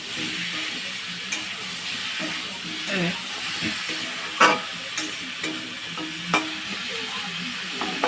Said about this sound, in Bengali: এটা দিয়ে আমি ভালোভাবে নেড়ে চেড়ে সবজিগুলো ভেজে নেব যাতে কাঁচা না থাকে।